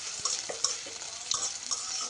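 Onions with green chilies stirred in a hot pan, a steady bright sizzle of frying with periodic scraping strokes of a spoon across the metal, close and continuous with no talking.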